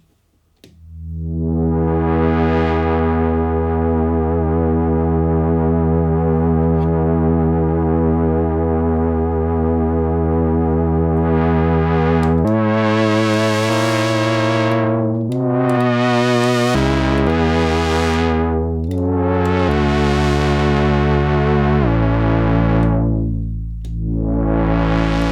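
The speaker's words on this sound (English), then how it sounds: "I'll use a sine wave as a vibrato source. I'm aiming for about 4 or 5 hertz or so." Modular synthesizer voice from an Instruō àradh with a sine-wave LFO adding roughly 4–5 Hz vibrato: a loud, sustained harmonic-rich tone that wavers steadily, later shifting in brightness with sweeping filter-like changes, no talk.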